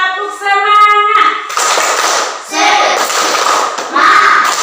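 A group of people do a rhythmic 'tepuk semangat' clapping cheer, beginning with a short chanted vocal phrase and followed by loud bursts of clapping in sets.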